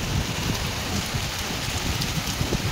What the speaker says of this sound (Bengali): আর আওয়াজটাই শুনতে পাচ্ছেন, ভালোই এবার জোরে এসে গেছে বৃষ্টিটা।